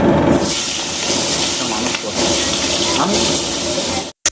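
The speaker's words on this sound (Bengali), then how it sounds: "মাছগুলো ভালোভাবে ভেজে নিচ্ছি" Prawns fry in mustard oil in a wok with a loud, steady, close hiss and crackle that runs without a break before cutting off abruptly.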